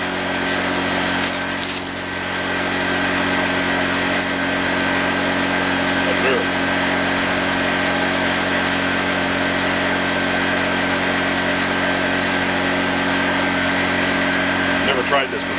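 Honda 1000W generator running near its capacity while powering a toaster, a steady close engine drone with a constant hum and vibration throughout.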